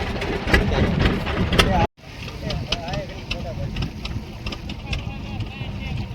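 A boat engine runs steadily with a low churning rumble on the sea near Shiyalbet island, Gujarat, and people talk over it throughout.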